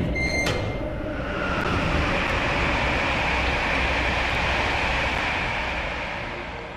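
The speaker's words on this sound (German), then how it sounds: "Denn jetzt kommen Züge." Trains rumble past in the video game Mirror's Edge Catalyst, a loud, sustained rolling roar that swells and slowly fades, with a few metallic clanks near the start and no speech.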